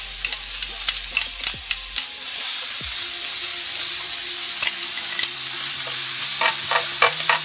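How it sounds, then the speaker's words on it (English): Fettuccine carbonara ingredients are sautéed for a single portion in a pan, giving a steady hiss of sizzling broken by sharp scraping and stirring clicks. "So what we're doing is sauteing this one."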